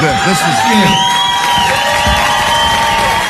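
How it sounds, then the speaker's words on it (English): A crowd cheering and applauding for an empty stage, heard as a recording on a radio show, with loud whoops and shouting over a continuous roar that stays strong the whole time. "that was applause for an empty stage"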